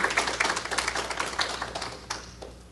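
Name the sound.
audience applause welcoming speaker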